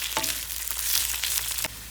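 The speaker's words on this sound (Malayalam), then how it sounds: "സവോള ചെറുതായിട്ട് നമുക്കൊന്ന് ഈ എണ്ണയിലൊന്ന് വഴറ്റിയെടുക്കാം" Small onions sautéing in hot oil in a pan for chicken perattu, a steady close sizzle with a few soft stirring scrapes and no voices.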